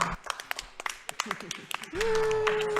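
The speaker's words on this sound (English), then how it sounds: "let's give a big round of applause to ProtoMagicalGirl and Witch's Hex" Audience applause at a live-streamed speedrun event for The World Ends With You: Final Remix, heard as scattered claps and taps that give way to a steady sustained tone and a voice.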